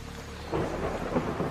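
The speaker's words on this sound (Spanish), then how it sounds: "La lluvia, el viento y los relámpagos no hacían tregua alguna." A hurricane-strength thunderstorm pours heavy rain while wind roars and thunder rumbles low and continuous, swelling louder partway through and staying dense and close throughout, with no voices.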